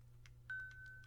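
Faint, quick presses on a calculator keypad, about five soft clicks in a row, with a thin steady electronic tone running under the middle presses.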